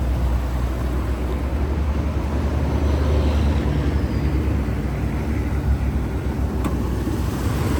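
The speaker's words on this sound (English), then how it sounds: "There's your 460 Ford V8 engine." A 1968 Lincoln Continental's 460 Ford V8 idling, a steady deep low rumble with a constant even hum and no revving, heard close and alone without talk.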